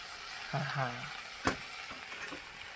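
Food fries in a pan with a constant close sizzling hiss, broken by a brief vocal sound early on and a sharp clink midway.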